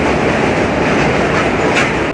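Swarna Jayanti Express running on a diverted route via Bhimavaram, heard from inside as a loud, continuous rumble with rhythmic clickety-clack of wheels over rail joints, cutting off abruptly at the end.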